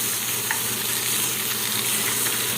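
A seasoned NY strip steak sears with a constant, loud, close-up sizzle and crackle, steady for the whole stretch with no voices.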